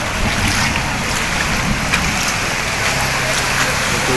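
Floodwater rushing into a street in Cavite City, a steady broad wash of flowing water with low rumble, continuous and fairly loud with no clear talk over it.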